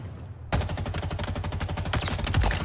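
Assault rifle in Halo Infinite fires in a steady rapid burst after a brief quiet start, loud and close, with the fast regular cracks running continuously to the end.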